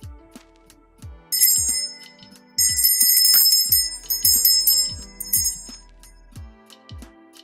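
A bell rings out through the whole stretch in repeated bright chimes, with bursts of high metallic ringing clustered in groups over a backdrop of deeper struck tones.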